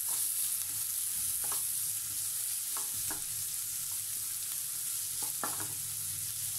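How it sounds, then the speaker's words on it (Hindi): Chopped onions and cumin sizzle steadily in hot oil over a high flame while a spoon stirs them, with a few distinct scraping clicks against the pan and no voices. "इसे हल्का मिक्स कर लें।"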